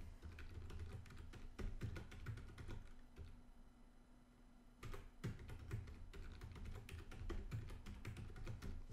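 A computer keyboard is typed on steadily in a quiet room while a disk encryption password is entered during an Arch Linux install, with dense close key clicks, a brief pause midway, then more rapid tapping; no speech.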